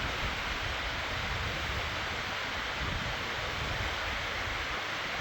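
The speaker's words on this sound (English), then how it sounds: "Here we are, this awesome waterfall." A waterfall in Crawford Notch State Park, New Hampshire, giving a steady broadband rush of falling water heard from a moderate distance, faint and unbroken, with no talking.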